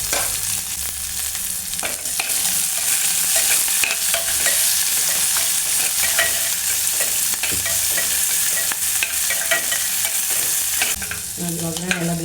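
Tempering of mustard seeds, chilies, curry leaves and onion fries loudly in a pan, a continuous close sizzle with frequent scraping stirs and no talk.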